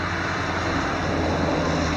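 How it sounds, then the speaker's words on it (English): Steady broadband road traffic noise beside a trail in the western Adirondacks, a continuous low rumbling roar with no pauses, moderately loud and unbroken, no voices. "Sorry about the road noise."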